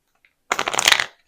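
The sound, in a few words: shuffling tarot cards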